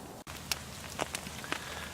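Light rain patters softly on leaves and ground, with a few sharper drops landing close by at scattered moments.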